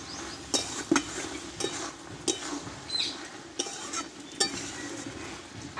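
Pumpkin curry with dried fenugreek leaves, panch phoron, dried red chillies, bay leaves and fried spices being stirred in a pan, giving repeated clinks and scrapes of a spoon against metal over a soft background hiss.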